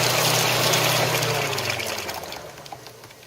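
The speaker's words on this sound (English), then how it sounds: "So when it starts bubbling out like that," Automatic transmission fluid bubbles and gurgles out of a Mazda MPV during a fluid exchange. A low engine hum fades away partway through, and the splashy trickle of fluid then tapers off on its own, with no talking.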